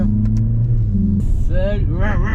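A Mercedes-AMG A45 S engine rumbles with a deep, steady drone, then rises in a couple of quick revs with climbing pitch, close by, while people talk over it.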